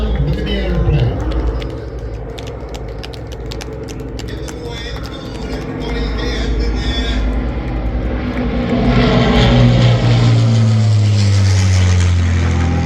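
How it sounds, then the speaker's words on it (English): Aeroplane engines at the Elvington air show roar loudly, swelling into a deep, droning pass as the aircraft approaches, with people talking and background music underneath. "Here it comes, listen to the sound, look at the aeroplane."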